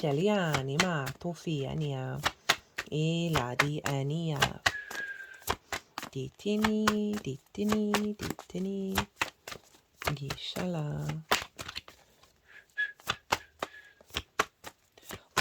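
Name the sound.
shuffling oracle cards for a tarot reading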